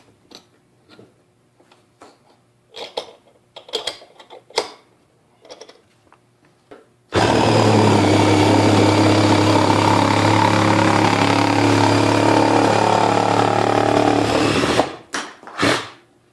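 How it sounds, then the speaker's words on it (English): A Hart 20-volt cordless reciprocating saw cuts through material in a loud, steady buzzing run of about eight seconds, starting abruptly after scattered knocks and handling sounds and stopping just as suddenly. "I'm going to see if I cut this in a different position."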